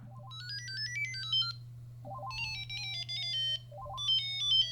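A tinny ringtone from a Mitsubishi Galaxy Trium mobile phone repeats a short chirpy melodic phrase three times, rising runs of beeps over a constant low hum.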